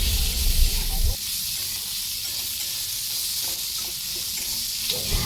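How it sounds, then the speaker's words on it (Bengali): Sliced potatoes and onions fry in hot oil in a pan for a prawn malai curry, giving off a steady, even sizzling hiss that stays constant after a brief louder start. "পেঁয়াজ আলু দুটোকে আমি একটু ভালো করে ভেজে নেবো"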